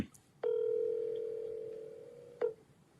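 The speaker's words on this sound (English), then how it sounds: "Can you hear the ringing?" A single long telephone ringback tone during a call, one steady buzzing ring of about two seconds, faint and clear on a quiet line, starting and stopping abruptly.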